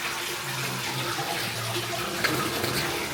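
Water from a public fountain in Porto, Portugal splashes and gushes steadily at close range, a continuous dense wash with no talking over it.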